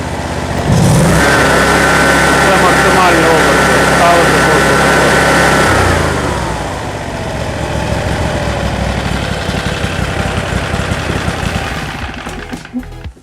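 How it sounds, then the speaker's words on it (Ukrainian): A small two-cylinder Loncin LC2V80FD petrol engine starts with a whine and then runs on, settling into a steady, even idle with a regular low chugging. "Двигун працює рівно"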